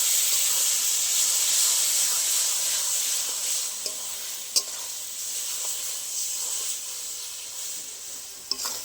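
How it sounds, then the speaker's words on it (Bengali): Ground spices, Kashmiri chilli powder and turmeric, fry in hot oil in a pan for chicken bhuna, giving a steady close hiss and sizzle with a few faint clicks of stirring, no voices. "ভালো করে একটু কষে নেবো মশলার সাথে"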